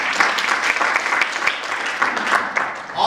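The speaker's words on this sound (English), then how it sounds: "Give Mike a round of applause." Audience at a realty team meeting claps for Mike, a steady round of applause filling the room from start to finish, fairly loud and close with no talk over it.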